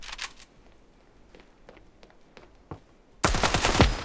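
Video game gunfire: a short burst at the start, scattered faint clicks, then a loud rapid volley of shots near the end.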